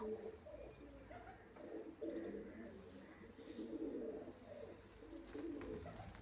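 A black-tailed pigeon coos softly and repeatedly in a low, rolling rhythm, fairly faint and continuous, with no voices over it.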